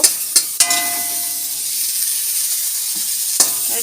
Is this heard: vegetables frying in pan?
yes